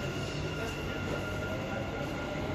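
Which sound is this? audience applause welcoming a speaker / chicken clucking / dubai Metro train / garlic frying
dubai Metro train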